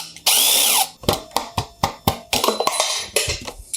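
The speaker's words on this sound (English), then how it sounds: "Once you get that broken though, you can use an impact wrench to get the rest of the bolt off pretty quickly." An impact wrench with a 14mm socket removes a rear shock bolt on a Yamaha XSR700 motorcycle: one sustained whir, then a run of sharp hammering bursts, close and loud.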